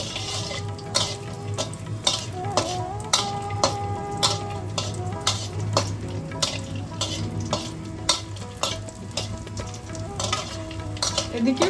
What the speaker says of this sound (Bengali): এবার আমি বড়িগুলোকে ভেজে নিচ্ছি।